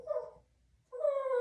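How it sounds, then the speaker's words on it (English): A pet dog, Sophie, lets out two high, drawn-out whines with a short pause between them. The whines are fairly close and soft, and no voices are heard. "Does your guys' dogs whine like this, or is it just mine?"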